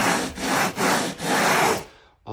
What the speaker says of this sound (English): So what I'll do here is I'll sand this down all